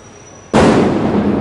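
A loud burst of firecrackers going off below a building during Bhaubeej Diwali celebrations, a sudden crackling blast that begins after a brief quiet moment and keeps roaring densely to the end.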